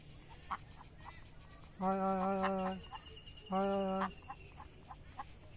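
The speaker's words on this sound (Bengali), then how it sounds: "এই যে হাঁস দেখছেন আপনাদেরকে দেখতে আসতেছে ওই দেখেন প্যাক প্যাক করতেছে" Two bursts of nasal duck quacking, each a quick run of quacks, heard faintly over outdoor ambience with scattered soft background sounds.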